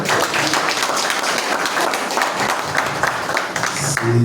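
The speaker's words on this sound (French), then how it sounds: "On applaudit encore plus fort, s'il vous plaît." Wedding guests applaud loudly and continuously at a ceremony, a dense wash of clapping from a crowd with a few voices mixed in.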